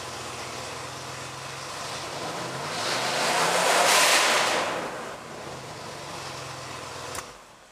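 A 1976 Pontiac Grand Prix engine idles, then swells into a single rev that peaks and sinks back to a steady idle, close and alone with no talking.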